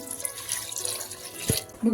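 Water poured into a pot of chicken kharda masala, a short close-up splashing gush lasting under two seconds with a brief louder splash near the end.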